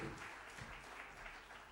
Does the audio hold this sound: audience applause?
yes